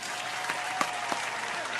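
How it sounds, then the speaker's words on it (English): Applause from a comedy-show audience, a steady dense wash of clapping at moderate distance with a couple of sharper individual claps standing out. "Round of applause to me for the prison stories."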